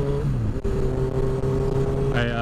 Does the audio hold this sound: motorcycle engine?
yes